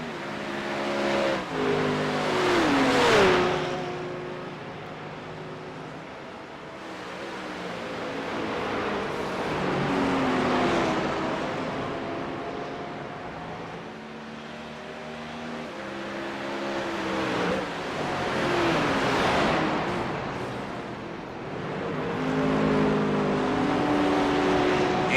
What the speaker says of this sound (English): Rudolph Gunther has caught the bumper of the BMW of Simon Zier.